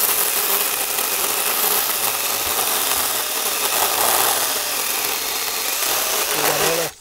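A Tomyvic 6-inch battery mini chainsaw cuts through firewood at a campsite, a steady loud buzzing whine running continuously for about seven seconds before cutting off abruptly at the end.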